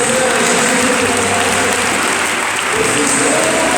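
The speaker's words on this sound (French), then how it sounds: "Applaudissez-le maintenant Seigneur." A worship congregation at a French-language church service applauds steadily, with dense, continuous clapping that stays loud from start to end.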